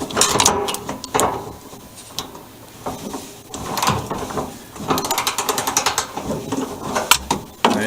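A socket ratchet tightens the bolts on a VW bus fuel sending unit, giving quick bursts of close, sharp clicking separated by short pauses and light handling clatter.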